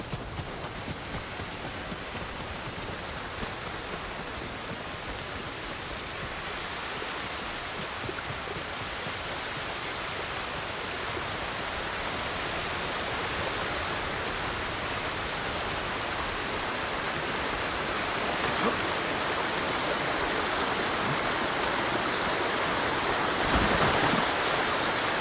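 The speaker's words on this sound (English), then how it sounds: "Near the waterfall's edge." Waterfall by the edge in the video game Ghost of Tsushima, a steady broadband rush of falling water that holds at a constant level throughout and swells slightly louder near the end.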